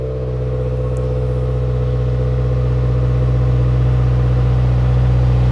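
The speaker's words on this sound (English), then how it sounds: "Go ahead and start up the car." A turbocharged car fitted with a COBB Accessport tune runs close by, its engine a loud, steady droning hum that climbs gradually in pitch and volume, with no talking.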